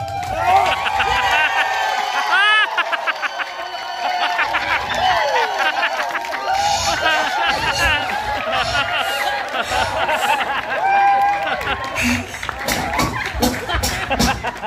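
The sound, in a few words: audience clapping and cheering for a love team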